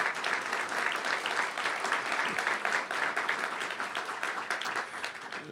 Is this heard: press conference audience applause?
yes